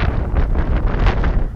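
Strong wind buffeting the microphone, a continuous loud roaring rumble with gusty swells and no voices.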